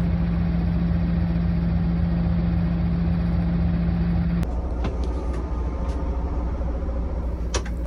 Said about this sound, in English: the engine is so smooth and sweet, virtually no clag at all after starting the engine.